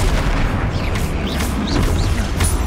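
The Flipendo spell in Hogwarts Legacy hits during combat, with a dense, booming impact and blast-like thuds over a thick layer of battle noise that persists throughout.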